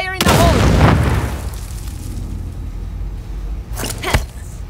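A big blast goes off in the sci-fi shooter game Second Extinction, a loud, booming explosion right at the start that rumbles away, with a few sharper bangs near the end; a voice speaks over the game sound.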